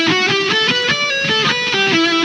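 Distorted electric guitar plays a riff, a quick run of short picked notes with a shifting melody and a bright, harmonic-rich tone, close and alone.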